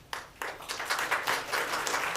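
Courtroom audience applause, a scattered burst of handclaps that starts with a few sharp claps and quickly thickens into moderate, continuous clapping from a small crowd.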